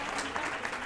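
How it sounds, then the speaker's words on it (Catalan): A studio audience at a televised school quiz show applauds a contestant, a short burst of dense, even clapping from many hands. "aplaudiment per ella"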